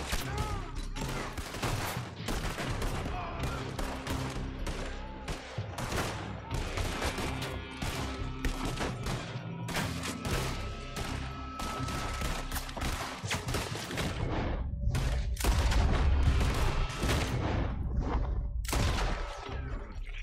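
Rifle gunfire in Red Dead Redemption 2, a dense run of sharp shots and bursts layered over game music and ambience, steady and loud throughout with a heavier stretch near the end.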